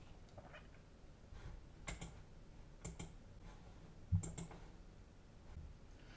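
Computer mouse clicks while navigating a Moodle course page: a few faint, sharp clicks spaced irregularly over a quiet background, no speech.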